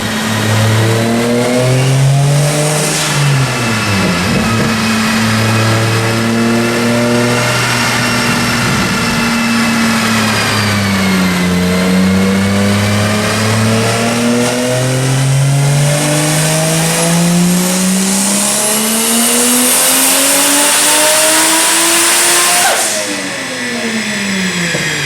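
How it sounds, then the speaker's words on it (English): A turbocharged 2JZ-GE-T engine in a Lexus IS300 revs hard on a dyno, a loud, close, continuous roar whose pitch sweeps up and down through repeated pulls before a brief dip near the end. "hard to find something that sounds better than a really angry 2J"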